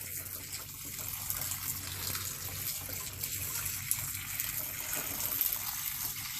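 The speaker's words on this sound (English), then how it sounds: "it's going to pull the water from the high point to the low point." Water flows steadily through a siphon hose from a high container to a low one for rinsing polished rocks, a constant soft gushing trickle, fairly faint, with no talking.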